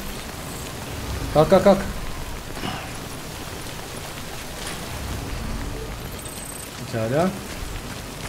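Steady rain falls in the video game Death Stranding, a constant soft hiss of drops under the scene, while someone speaks briefly twice over it.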